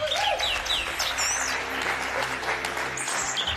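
A song thrush sings a varied, melodious song of clear whistled phrases, some notes repeated, over steady outdoor background noise, with other birds chirping faintly nearby.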